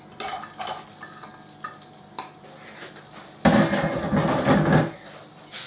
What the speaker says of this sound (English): Oil is getting hot. So what I'm going to do is put in my peppers.